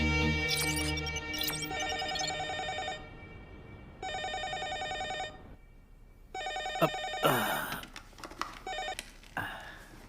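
Telephone ringing late at night, repeated electronic ring bursts with short gaps between them and some clatter toward the end, no speech.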